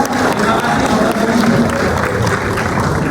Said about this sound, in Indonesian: berikan tepuk tangan sekali lagi untuk grup F